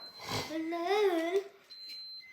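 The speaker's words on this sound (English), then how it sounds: "Backpack's beeping." A child's backpack beeps in a steady electronic tone, heard close at first and returning faintly near the end, with a voice and chatter rising over it in the middle.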